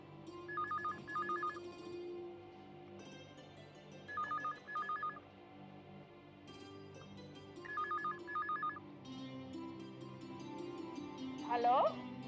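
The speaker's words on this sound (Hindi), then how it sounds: "बेटा फोन की घंटी बज रही है।" A home telephone rings in an Indian TV drama scene. Three separate bursts of double electronic trills sound at even intervals over a quiet background, and each one is fairly clear and close.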